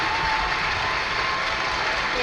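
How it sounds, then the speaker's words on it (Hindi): Audience applause at a chief minister's employment day event in Indore, a dense, steady wash of many hands clapping throughout with faint crowd murmur. "जोरदार तालियां हम सबकी।"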